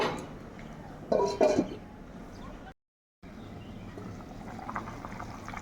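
Hot water pours into a pot of potatoes in a brief, close splash and trickle. The sound drops out abruptly, and a soft background hum follows.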